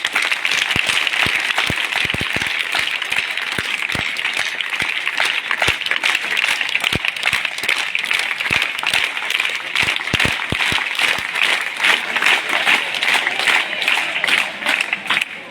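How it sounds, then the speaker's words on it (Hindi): An audience claps continuously and loudly for about fifteen seconds, a dense, even wash of applause with sharp individual claps standing out throughout. "तालियां"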